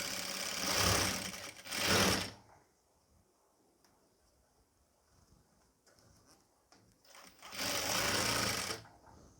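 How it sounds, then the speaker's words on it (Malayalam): A sewing machine stitching nightie fabric runs in two loud, close whirring bursts at the start and end, separated by a quiet stretch of faint handling noise. "ഇതേപോലെ നമുക്കൊന്ന് തയ്ച്ചെടുക്കാം."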